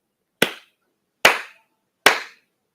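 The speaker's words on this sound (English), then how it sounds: "let me clap and snap a number" Three sharp, evenly spaced hand claps ring out close and loud, each decaying quickly into silence, with no talking.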